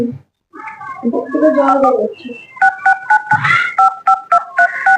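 A short burst of talk and a meow-like voice, followed by a rapid series of clear two-tone telephone keypad beeps, evenly spaced and close.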